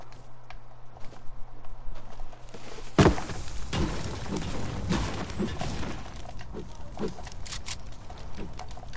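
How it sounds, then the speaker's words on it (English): Horse hooves clip-clopping on a road, a steady run of hoof strikes in an uneven rhythm, with a sharp crash partway through and ongoing clatter and noise beneath. "I'm gonna take my horse on the road and wanna ride till I can't no more."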